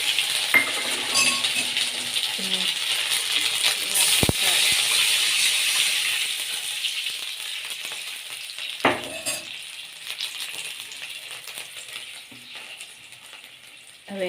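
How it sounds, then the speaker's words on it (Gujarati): Mustard seeds, cumin and garlic paste sizzle in hot oil while tempering for a Gujarati dhokli curry, a steady close frying hiss with a few metallic spoon clinks. "હવે ઢોકળીનો વઘાર કરી નાખી. તો તેલ આવી ગયું છે, તો નાખી રાઈ, જીરું, લસણની પેસ્ટ,"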